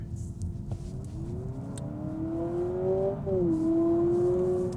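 A Honda Civic Hybrid in sport mode accelerates hard at full throttle, and a synthetic piped-in engine tone rises steadily in pitch over a low road rumble inside the cabin before dipping briefly and climbing again.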